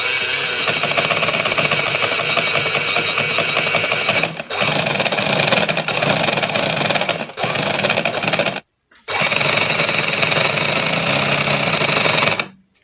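A sewing machine fitted with a piping foot and set to a long stitch length runs steadily while stitching double piping onto a ladies' kameez, a loud continuous mechanical whir with two short pauses, a dead stop near the end, then another run.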